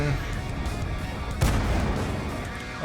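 T67 tank gun firing in World of Tanks: one loud, sharp cannon blast midway through, rising over a constant engine rumble and battlefield noise, with a short decaying echo.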